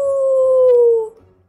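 A human voice imitating a dog howling like a wolf at the moon, one long loud sustained howl that slowly falls in pitch and then stops, close and alone.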